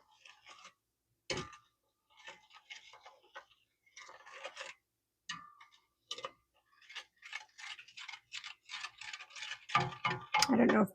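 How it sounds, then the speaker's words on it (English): Sugar granules scrape and drag across the bottom of a pan as butter rum hard candy mixture is stirred, giving a series of short, dry, gritty strokes at moderate loudness with brief pauses between them. "when I'm stirring this, you can hear the sugar granules dragging on the bottom of the pan"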